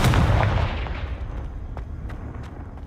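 The Confringo blast spell in the video game Hogwarts Legacy goes off as a single loud, close explosive boom, followed by a fading rumble and a few faint crackles.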